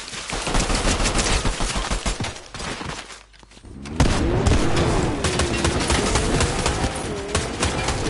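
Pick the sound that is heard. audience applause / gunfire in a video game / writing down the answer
gunfire in a video game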